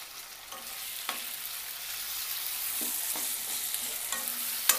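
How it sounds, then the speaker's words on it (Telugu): Tomato pieces sizzle in oil with ginger garlic paste, a continuous soft frying hiss broken by several spoon-stirring clacks against the pan, with no speech. "టమాటా ముక్కలు కూడా కొంచెం వేగనివ్వాలి."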